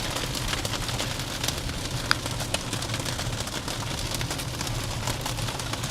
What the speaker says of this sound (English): We're back to freaking accumulating hail.